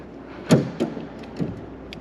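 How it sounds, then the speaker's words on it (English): Doors on a classic C2 Corvette shut in a few soft thumps, one firmer close followed by lighter clunks, heard nearby without talking. "Doors close nicely."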